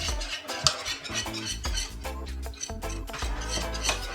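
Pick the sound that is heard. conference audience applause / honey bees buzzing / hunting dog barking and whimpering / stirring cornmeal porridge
stirring cornmeal porridge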